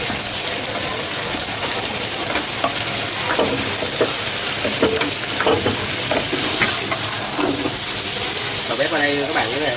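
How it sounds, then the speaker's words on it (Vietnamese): Okra and meat stir-fry in oil in a hot pan in a busy Vietnamese broken-rice restaurant kitchen, a loud steady sizzle with constant stirring and scraping and some clatter throughout. "Mình đang thêm dầu vào trong cái chảo thịt và bắt đầu xào cái đậu bắp với lại thịt."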